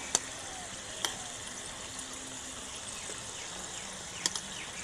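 Oil sizzles steadily in a pan as small singaras fry, a soft continuous crackle broken by a few sharp pops.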